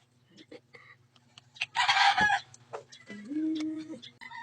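Chickens cluck and squawk nearby, with a brief loud burst of flapping or squawking in the middle and a short crow-like call afterward.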